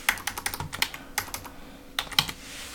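Quick bursts of keystrokes on a computer keyboard, close and crisp, with short pauses between clusters of taps and no one speaking.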